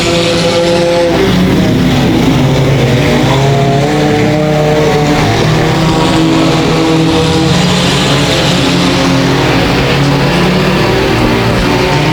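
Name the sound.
race cars driving laps at speedway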